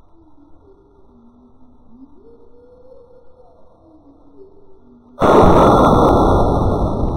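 A 300 Blackout rifle firing a Remington UMC round at 50 yards into a cantaloupe, heard as one sudden, very loud blast that ends several seconds of quiet outdoor insect chirping and rings on afterward.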